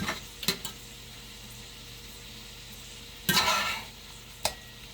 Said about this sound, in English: And just cook this half pound of bacon, ground beef.